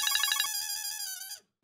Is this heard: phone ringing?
yes